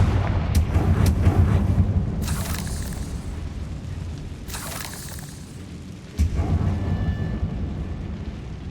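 Confringo blasting spell explosions in Hogwarts Legacy, several booming blasts with crackling bursts over a steady low rumble, loud and close, with no voices.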